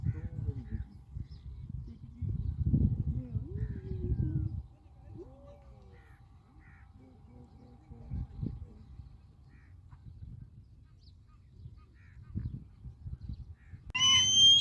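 A hungry captive hawk repeatedly calling for food, sharp short cries spaced out over a quiet zoo-like background, with a louder piercing call at the end.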